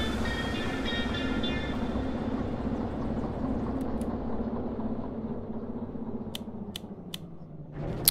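A locomotive in the Derail Valley train simulator rumbles steadily along the rails, with a dense, continuous low drone and a few sharp metallic clicks near the end before a brief dip.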